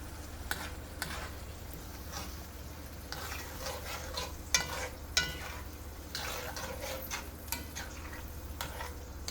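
A sofrito of peppers and onions fries quietly in a pan, giving a soft, steady sizzle broken by scattered clicks and scrapes of stirring, with no voices.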